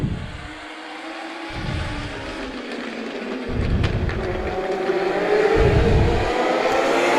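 Race cars lapping a short oval track, loud engine roars sweeping past in repeated pulses with a steady background drone, growing louder toward the end.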